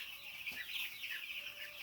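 Lively chickens clucking in a farm flock, a faint, continuous chatter of short clucks and calls from several birds at a moderate distance.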